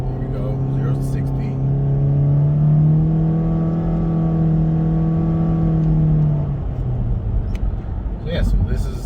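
A 2020 Honda Civic Sport sedan accelerates from 0 to 60 with a loud, steady engine drone that climbs in pitch. It falls away sharply as it eases off near the end.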